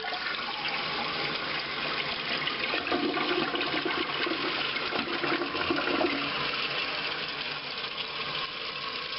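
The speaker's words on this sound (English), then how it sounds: "Let's watch the flushing action." A freshly reconditioned and reinstalled toilet flushes with a steady, loud rush of water that swells in the middle and then settles into a continuous refill hiss, with no talking.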